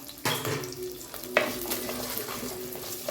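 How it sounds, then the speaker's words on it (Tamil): Shallots and about ten garlic cloves sauté in a pan for sambar, a soft steady sizzle broken by sharp utensil knocks against the pan and light stirring scrapes, no speech. "சின்ன வெங்காயம் போட்டுக்கிறேங்க இது நல்லா வதங்கணும்"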